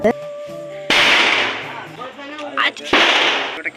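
Firecrackers burst close by during Vishu celebrations in a few sharp, loud cracks with crackling decay, separated by brief pauses and some background voices.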